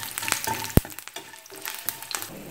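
Chana dal, asafoetida, garlic and tamarind sauté in hot oil for a mint chutney, giving a soft, steady sizzle with scattered crackles and one sharp pop near the middle, close and on its own.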